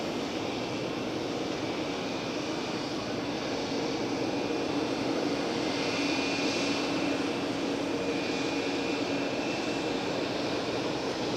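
An Air China airliner departs Geneva Airport, its jet engines a loud, continuous roar with a faint tonal whine, swelling slightly mid-pass and staying steady to the end.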